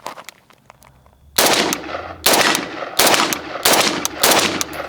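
An FN FNC 5.56mm rifle fires five loud, sharp shots at roughly even intervals, each followed by a short echoing decay, after a brief quiet stretch at the start.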